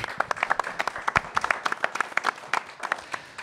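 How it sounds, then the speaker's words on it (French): A small audience claps during a French local broadcast event, the hand claps scattered and uneven at moderate loudness, individual claps standing out rather than merging into a dense roar. "On vous applaudit"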